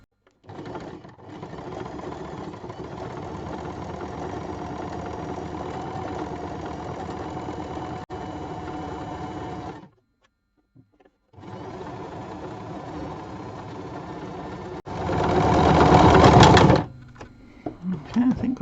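A sewing machine does free-motion embroidery textural stitching on felted fabric, whirring steadily and close in long runs with a short pause between, and a louder faster burst near the end.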